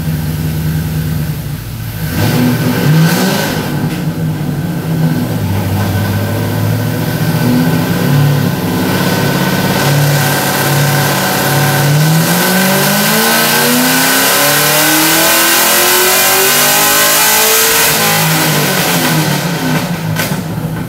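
A Ford Mustang fitted with a 2JZ engine roars on a dyno, holding a loud steady drone before its pitch climbs smoothly through a long full-throttle pull, close and with no talking.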